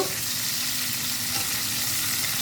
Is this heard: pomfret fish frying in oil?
yes